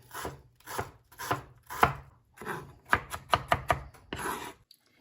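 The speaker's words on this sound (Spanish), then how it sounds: "La cebolla la voy a picar bien picadita." An onion being finely chopped with a knife on a board: quick bursts of crisp blade strikes in irregular clusters, close and fairly loud, with short pauses between runs and a final longer pass.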